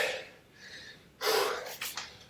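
After a session of skipping rope, heavy breathing comes close and loud: a faint inhale, then a sharp gasping exhale followed by two shorter panting breaths, with no words.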